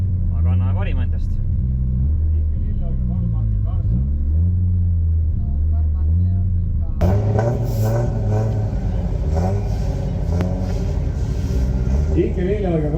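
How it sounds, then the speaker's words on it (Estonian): A Dodge Hellcat, a fast rear-wheel-drive car, rumbling and revving at a drag racing event, its engine note rising and falling in low harmonic sweeps before a louder burst of noise joins in; a commentator talks over it. "kõrval on meil üks Hellcat või siis põrgukiisu, ka päris kiire auto, aga tagaveoline"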